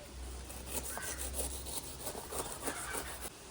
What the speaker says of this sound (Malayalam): പൈനാപ്പിൾ കട്ട് ചെയ്യാം